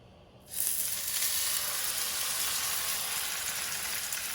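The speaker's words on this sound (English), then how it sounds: "See how when I lay it into the pan" A salmon fillet is laid into very hot oil in a pan and bursts into a loud, steady sizzle that starts abruptly and holds as a continuous bright hiss, close by with no talking.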